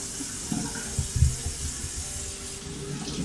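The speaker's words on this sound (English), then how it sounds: "we'll give them another rinse off just in case, because they're taters." Potatoes being rinsed under a running kitchen tap, a steady close wash of water with a few louder splashes as the tubers are turned in the stream; no one speaks.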